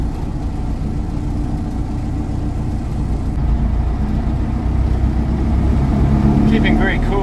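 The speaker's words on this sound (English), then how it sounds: "So just running up the engine now to get the oil warm" An RV-14 aircraft engine runs up steadily to warm its oil, a continuous low rumbling drone that holds close and loud throughout, rising slightly in level partway through, with no breaks in the sound.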